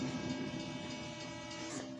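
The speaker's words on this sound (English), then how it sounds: "Dude, that's a train." A train passing at a distance, a steady droning rumble with a sustained tonal hum held throughout, fairly faint and even in level, with no talk over it.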